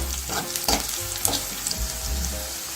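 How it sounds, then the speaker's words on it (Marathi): Tomato, green chili, ginger and garlic sautéing with softened onion in a pan for a prawn masala, a loud close continuous sizzle broken by clinks and scrapes of stirring. "नरम झाल्यावरती टोमॅटो, मिरची, आलं आणि लसूण टाकून परतून घेते"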